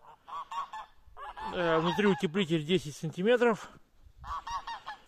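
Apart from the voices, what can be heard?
geese honking in a poultry house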